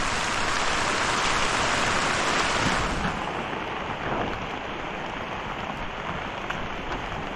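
Heavy rain pounds steadily on surfaces during a harvest of eggplant, a dense continuous hiss that stays loud and unbroken throughout, with no voices.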